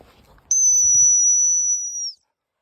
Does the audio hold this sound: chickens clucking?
no